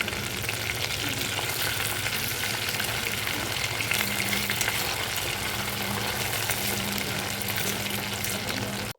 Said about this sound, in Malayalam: ഇതുപോലെ തന്നെ ഒരു സൈഡായപ്പോൾ തിരിച്ചിട്ടും ഞാൻ ഫ്രൈ ചെയ്തെടുക്കുന്നുണ്ട്.